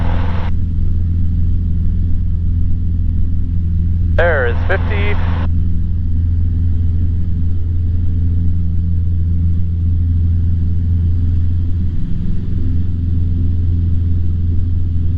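A small airplane engine holds a steady, loud drone at full throttle through the takeoff roll at the airport, with brief radio chatter breaking in over the engine noise.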